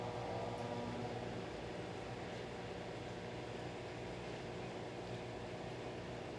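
A repaired home washing machine on a drain and spin cycle gives a quiet, steady whir and hum of even broadband noise throughout, with no talk.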